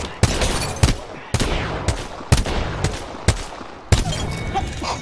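Gunfire in the video game Apex Legends, rapid bursts of loud, close shots broken by a few sharp single reports over several seconds, with no talk.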